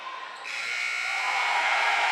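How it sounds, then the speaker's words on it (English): A gym buzzer at a boys varsity high school basketball game sounds as a long, steady, loud electronic drone that starts abruptly and holds for about two seconds over crowd noise. "at the buzzer, Alamar Brooks goes up."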